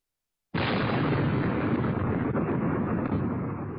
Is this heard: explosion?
yes